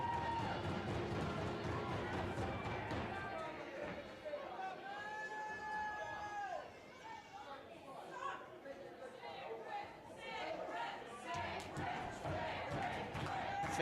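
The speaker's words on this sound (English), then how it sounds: "Fans getting behind Sick Rick Matrix here at the Meriden Community Center. Capacity crowd on hand." A capacity crowd at a Crossfire Wrestling event in the Meriden Community Center, steady crowd chatter and cheering with shouts, under a commentator's voice throughout.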